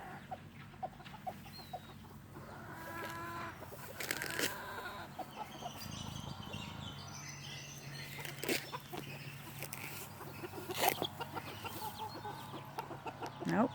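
A Silkie hen and her chicks cluck and peep softly in an outdoor pen, scattered short calls and chirps over a quiet background, fairly distant and faint.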